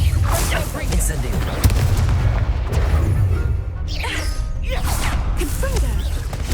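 Fiery spell casts in Hogwarts Legacy, a run of whooshing, crackling blasts and booms over a dense, loud game-battle din, with brief voice-like shouts in the mix.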